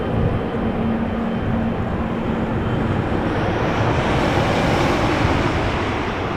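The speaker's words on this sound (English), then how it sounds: "GE90 is getting started. Listen to that. You can hear it." GE90 jet engine starting up at Schiphol Airport, a broad steady roar rising slowly in the distance, carried on blowing wind.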